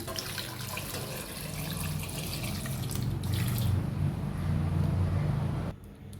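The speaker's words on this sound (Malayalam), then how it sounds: "കപ്പയിലോട്ട് വെള്ളം ഒഴിച്ചു കൊടുക്കാം." Water pours steadily over tapioca in a pressure cooker, a dense rushing splash close by that stops abruptly near the end, leaving a quieter hiss.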